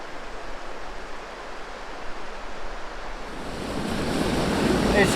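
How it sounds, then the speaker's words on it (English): A small waterfall and river rushing through the narrow canyon walls of Zion's Narrows, a steady broadband roar that swells louder and closer toward the end, with some wind buffeting the microphone. "A little waterfall here I found."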